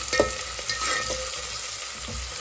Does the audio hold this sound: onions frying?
yes